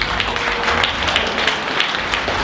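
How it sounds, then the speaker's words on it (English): Applause from an audience at a chairman's reception, dense steady clapping filling the room, fairly loud and continuous without a clear break. "So we give everybody a round of applause"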